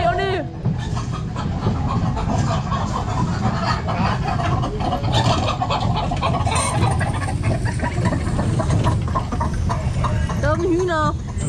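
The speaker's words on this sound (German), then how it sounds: "Da sind Hühner." Chickens cluck briefly at the start and end amid a noisy outdoor scene at the Holiday Camp Geisterdorf area of Heide Park, with people talking loudly throughout and partly masking the birds.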